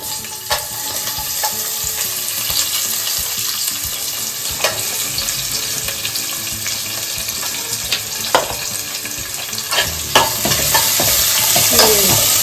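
Sliced onions sizzle steadily in hot oil for a goat mutton boti gravy, with repeated scraping stirs of a spoon against the pan and no talking.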